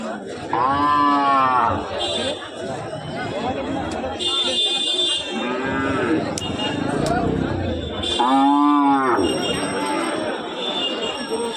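Cows moo loudly nearby at a cattle market, two long drawn-out calls several seconds apart, with people talking in the background between them.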